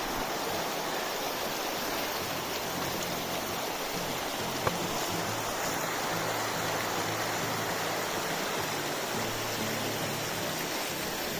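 River water runs through the canyon of Zion's Narrows, a steady, close, hissing rush that stays even throughout with no voices.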